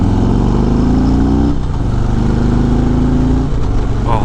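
A 2019 Harley-Davidson Road Glide Special fitted with Kraus handlebars rumbles steadily while riding, its deep engine drone loud and continuous, with a shift in pitch midway as the motorcycle changes speed.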